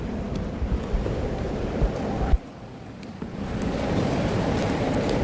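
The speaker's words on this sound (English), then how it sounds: "Sitting here watching the waves roll in and out of the cave." Ocean waves roll in and out of the mouth of a sea cave, a loud, dense wash of churning water with a sudden dip before the surge builds again, heard close from a kayak.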